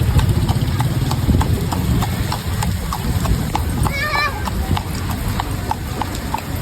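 Horse hooves clip-clopping on a wet street during a typhoon in Manila, a steady rhythmic series of close knocks under heavy rain noise, with an engine idling and voices in the background.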